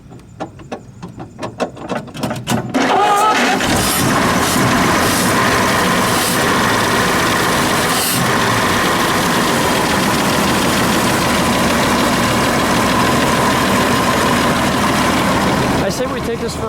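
A 1920 Packard Twin Six Runabout, a 90 hp twin-six engine, catches after a few stuttering cranks and settles into a loud, steady idle that runs close up for the rest of the clip.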